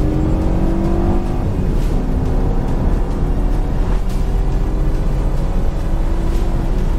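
A BMW F30 318i with 136 horsepower accelerates at full throttle, its engine droning loud and steady from inside the car as the pitch climbs gradually through the gear.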